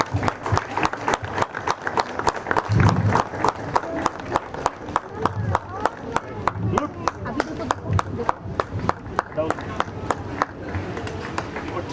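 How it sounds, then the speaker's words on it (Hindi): An audience at an Independence Day ceremony of the Northern Railway Moradabad Division claps in a steady, sustained round of applause, close and fairly loud, with a brief voice over the clapping near the start. "कृपया तालियां रखते हैं।"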